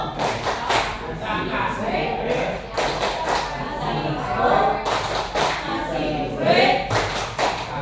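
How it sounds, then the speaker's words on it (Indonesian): Participants in a teacher training class perform a rhythmic group clapping cheer, bursts of claps and thumps in a patterned beat mixed with voices chanting along. "Yuk, silakan tepuk wow."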